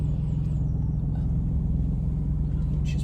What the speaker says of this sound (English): when you put in a dynamic mode, the exhaust valves actually open up